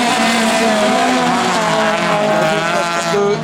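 Autocross race cars roar past loudly at a French circuit, engines revving high with continuous close racing noise and some tire squeal.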